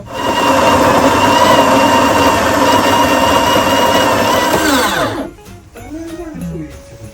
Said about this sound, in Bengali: তারপর সেটা গ্রাইন্ড হবে এবং সেটা থেকে কফি হবে